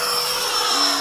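A radio-controlled aerobatic airplane, a Precision Aerobatics Addiction, is flying at under half throttle, giving off a steady, fairly loud electric motor and propeller whine that holds a high tone and rises slightly toward the end.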